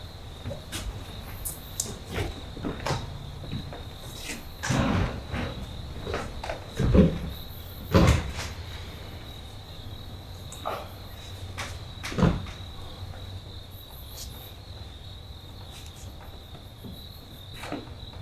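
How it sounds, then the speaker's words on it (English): A steady, monotonous insect chirp drones on throughout, with a few louder knocks and thumps breaking through at irregular moments. "Those are the most monotonous fucking crickets I ever heard in my life."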